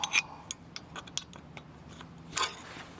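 Faint, sparse metallic clicks and clinks come from taking the valve cover off a 1976 BMW R90S motorcycle engine, with scattered light taps and a small cluster of rattles near the end.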